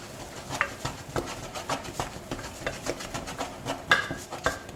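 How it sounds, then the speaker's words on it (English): Flour stirred into a hot pot of liquid for almond puff dough, a regular series of soft scraping and thudding spoon strokes, close and fairly quiet. "I'm just going to mix that until your flour, or until it all comes into a ball"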